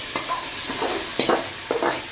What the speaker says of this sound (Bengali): এখন নামিয়ে আমি সিমটা একটু অল্প করে তেলে ভেজে নেব